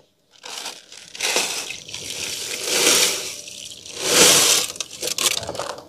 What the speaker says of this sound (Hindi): चीनी, अब चीनी डालेंगे इसमें।